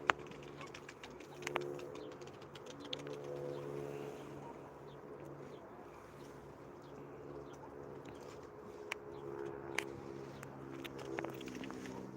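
Pigeons around a rooftop loft in Turkey, with soft repeated cooing and occasional wing flaps at moderate distance over a faint steady background hum, no voices.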